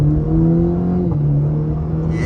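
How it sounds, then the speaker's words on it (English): The turbocharged four-cylinder engine of a 2024 Cadillac CT4-V hums steadily from inside the cabin under acceleration, a loud sustained drone whose pitch holds and dips briefly as a gear changes. "I don't really love the sound of the turbo 4-cylinder"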